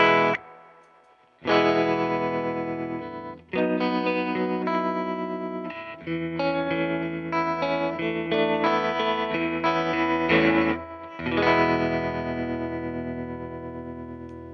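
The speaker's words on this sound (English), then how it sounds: "We also got some trem." Electric guitar with a tremolo effect plays sustained, ringing chords and melodic notes with a few brief breaks, loud and clear with no voices.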